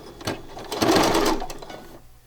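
Sewing machine stitching in a burst of rapid, rhythmic needle strokes, loud and close, rising in the middle and tapering off at the end.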